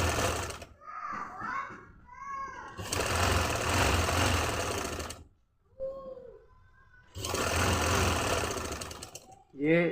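A sewing machine back-stitches trouser fabric in two long sustained runs, loud and close, with short pauses between them where a voice speaks.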